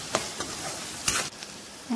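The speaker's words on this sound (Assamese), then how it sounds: "ভালদৰে ভাজি ল'ম যাতে মছলাখিনিয়ে তেল এৰি দিয়ে" Masala for a prawn curry fries in oil in a pan over a low gas flame, with a soft steady sizzle broken by a few sharp scraping stirs, close and without talk.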